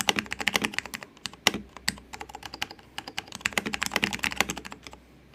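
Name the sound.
typing on Alps keyboard with Green Alps switches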